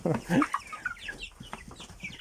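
A nearby young hen clucks in short, uneven bursts, with some quieter background noise around it.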